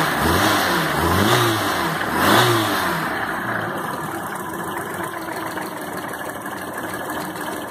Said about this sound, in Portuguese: Eu vou dar uma acelerada e ela vai avançar.